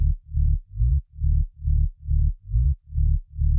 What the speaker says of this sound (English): We have a sub bass.